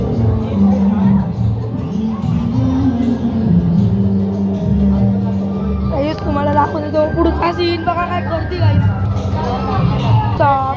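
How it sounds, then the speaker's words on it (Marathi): A dense, noisy crowd mills around at a Sanwariya Seth gathering, with constant babble and overlapping voices close by and a nearby speaker talking over the hubbub. "गर्दी म्हणजे गर्दी गाईस"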